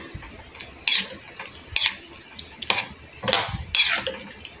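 A spoon scrapes and clanks against a pot as chicken curry with coconut milk and curry powder is stirred, making several distinct loud strokes at an irregular pace over a soft background.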